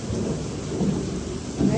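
Heavy monsoon rain pours steadily in Surat with low rumbles of thunder rolling underneath, a dense continuous wash of sound with swells near the middle and end.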